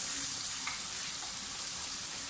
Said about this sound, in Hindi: आप देख सकते हैं मसाला कितना प्यारा सा भुन गया हमारा, साइड से ऑयल भी आना शुरू हो गया है।